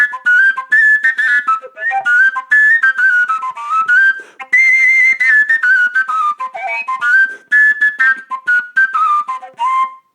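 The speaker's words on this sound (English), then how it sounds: "I usually play this flute more like a drummer, just sending some air, moving my fingers," Overtone flute built from plastic pipe, played with quick tongued breath pulses and shifting fingering, giving a loud, breathy whistling run of rapidly changing pitched notes in choppy bursts, up close with no talking.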